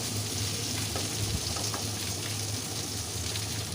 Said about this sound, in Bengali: ঢাকাটা তুলে আবার একটু নাড়াচাড়া করে দেখে নিচ্ছি কতটা ভাজা হলো